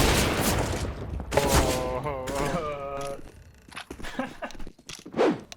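A loud AWP sniper rifle collateral shot in CS:GO, the sharp blast followed by game action noise, ringing tonal effects and scattered impacts over about five seconds.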